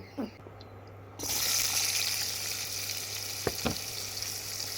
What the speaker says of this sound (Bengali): আলুটাকে আমি ভালো করে ভেজে নেব